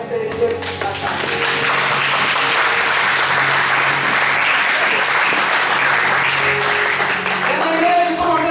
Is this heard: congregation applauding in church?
yes